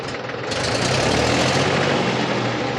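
A tractor engine with a power steering fault revs up sharply and holds a loud, steady, heavy roar close by, with no one talking.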